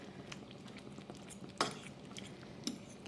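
A spoon scrapes and clinks through a chicken pot pie mixture in a skillet, soft quiet stirring with a couple of sharper knocks against the pan, heard up close without talk.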